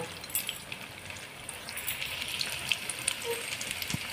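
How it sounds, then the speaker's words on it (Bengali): Rui fish and potato pakoras deep-frying in oil give off a soft, continuous hiss with scattered small crackles and pops, heard close and fairly quiet with no voices. "দেখুন আরও একটু আমি লাল লাল করে ভেজে নেব"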